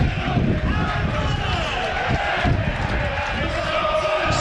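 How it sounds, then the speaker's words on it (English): A big football crowd roars and chants continuously at Turf Moor before the Burnley v Everton Premier League match, a loud, steady wall of voices with sharp surges of shouting throughout. "And the crowd have found their voice straight away."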